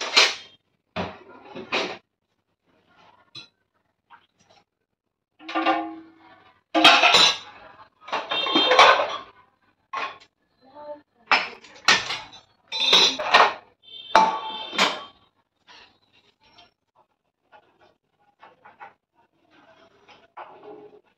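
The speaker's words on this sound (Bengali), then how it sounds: "ডালটা এখন একটু ঘুটে দেব।" Boiled dal is mashed in a pot with a utensil, producing intermittent scraping, clinking, and thudding strokes in irregular bursts with quiet pauses between them, heard close up.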